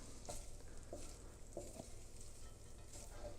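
Pancetta being stirred in a pan with chicken stock and wine for an Italian pasta dish, a steady sizzle and bubble with soft scraping strokes, close up and without talk.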